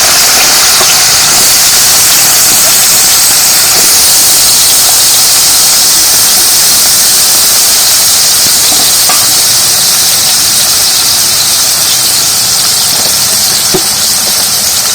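Potatoes sizzling in hot white oil in a pan, a loud, continuous dense hiss and crackle that runs unbroken throughout with no voices.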